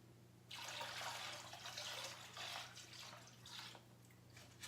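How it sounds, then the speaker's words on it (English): Rubbing alcohol poured into a plastic bag of water for a homemade ice pack makes a steady, splashy liquid pour lasting several seconds, fairly quiet and up close. "And then go ahead and pour the rubbing alcohol in."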